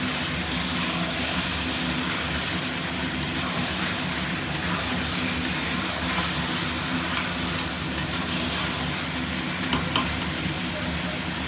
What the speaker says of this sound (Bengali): আবার আমরা 2 মিনিটের জন্য আলু দেওয়ার পরে এটাকে খুব সুন্দর করে কষাবো।